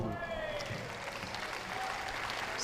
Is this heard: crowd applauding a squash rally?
yes